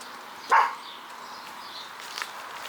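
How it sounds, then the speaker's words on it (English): A single short dog bark rings out at a moderate distance against a quiet outdoor background, followed by faint rustling. "What are you barking at?"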